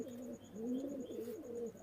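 High-flying pigeons give soft, throaty, wavering coos in a continuous overlapping murmur, close but quiet, with a faint steady tone behind them and no voices.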